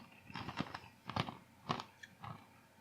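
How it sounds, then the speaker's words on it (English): Honey roasted crunchy snacks chewed close to the mouth, giving several distinct crisp crunching bursts in an irregular rhythm, loud and dry, with no talking over them. "And crunch. Oh, they are crunchy."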